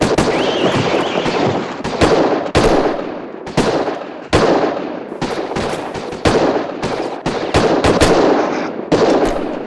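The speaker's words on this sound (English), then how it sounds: "The sounds of the gunshots are overwhelming." Rapid bursts of loud gunfire crackle and boom in quick succession, dense and overlapping, with brief pauses between volleys throughout, from a scene in the 1969 film Butch Cassidy and the Sundance Kid.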